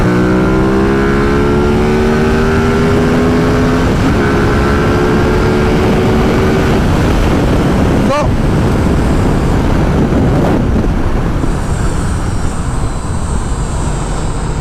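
A Ducati XDiavel cruiser motorcycle rides at speed: a loud, continuous engine roar with rising tones as it accelerates, mixed with heavy wind rush.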